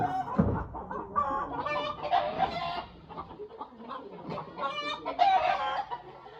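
A hen clucks repeatedly after laying an egg, her loud, close calls coming in irregular bursts with short pauses throughout.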